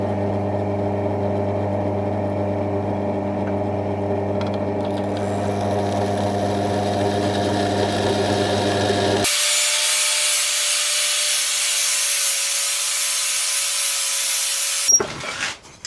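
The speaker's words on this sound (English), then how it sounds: "we need to use a flap sander grinder to get the mill scale off so it's ready to weld" A flap sander grinder scours mill scale off steel flat bar before welding, first a steady humming drone, then a harsh, loud, rough grinding hiss that holds for several seconds and stops abruptly. No one talks.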